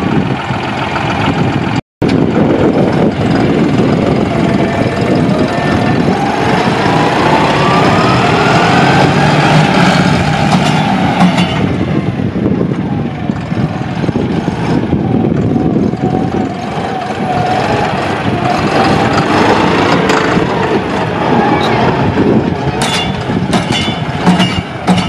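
A John Deere 5310 tractor in Solapur runs its engine steadily, a loud continuous rumble that holds for the whole stretch, with a brief dropout near the start.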